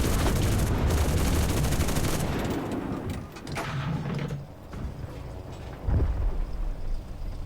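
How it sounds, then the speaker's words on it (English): Machine gun fire in the World War II video game Enlisted during a tank battle with a Panzer III J; dense rapid bursts dominate the first few seconds, then fade to scattered distant shots and mechanical rumble. "You can see machine gun fire"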